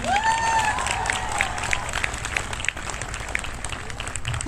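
Audience applause at a VAF event in Gorakhpur, a steady wash of clapping from a crowd that carries through the whole stretch, with a brief voice-like tone near the start.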